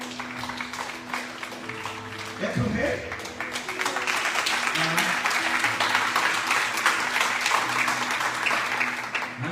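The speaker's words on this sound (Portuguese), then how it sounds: "Você pode aplaudir ao Rei." A church congregation bursts into applause for the King during a Portuguese-language worship service, the clapping swelling and holding steady and dense as a voice speaks briefly over it.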